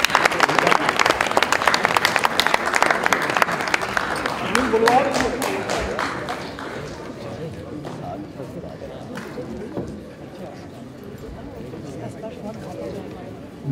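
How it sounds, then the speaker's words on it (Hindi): Loud audience applause at a Hindi stage play, dense clapping from a large crowd that gradually fades into a low hall murmur over several seconds. "चलो एक बार फिर सिंपल जोरदार तालियों से"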